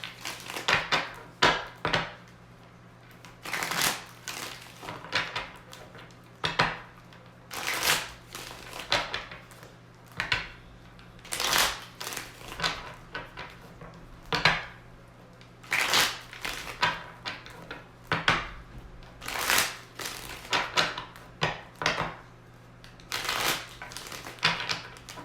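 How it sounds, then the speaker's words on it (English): Repeated crisp riffling bursts of tarot cards being shuffled, close and fairly loud, recurring every second or two over a faint steady hum, with no talking. "Shuffle for the love portion."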